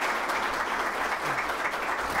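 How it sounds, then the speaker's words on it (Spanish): An audience in a university lecture hall breaks into applause, a dense, steady wash of clapping filling the short stretch without a break. "¿o no? Aplausos."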